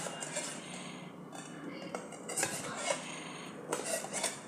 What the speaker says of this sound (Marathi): अशा वड्या कट करून घ्यायच्या